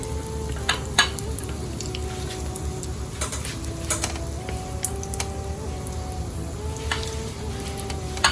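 Thick potato tikki cutlets shallow-fry in a pan, making a soft, continuous sizzle at moderate volume with a few light clicks and taps from utensils. No one speaks over it.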